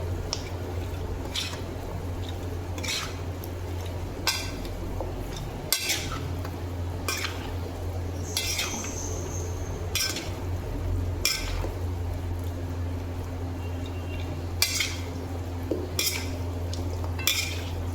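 A spoon scrapes and clinks around a bowl, stirring a chicken 65 mixture with green chilli paste, steady rhythmic mixing taps over a constant low hum, close and moderately loud.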